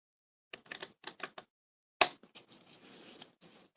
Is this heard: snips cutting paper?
yes